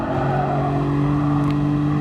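Nissan Skyline R34 racing car in Gran Turismo Sport, its engine holding a loud, steady drone at near-constant revs, close and alone without talk.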